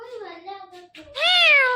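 A ringneck parrot mimics a cat's meow, giving a couple of short harmonic meow-like calls and then a louder, rising drawn-out meow at close range.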